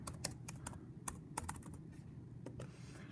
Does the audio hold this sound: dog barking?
no